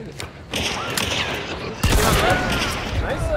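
Rapid gunfire bursts in an online shooter game, loud crackling volleys that jump in intensity partway through, with mechanical clatter and a voice talking faintly underneath.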